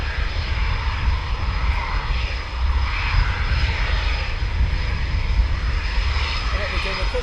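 Aircraft roaring past at RAF Coningsby, a loud steady engine drone with heavy low rumble lasting throughout, with a voice faintly underneath.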